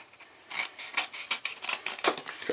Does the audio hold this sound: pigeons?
no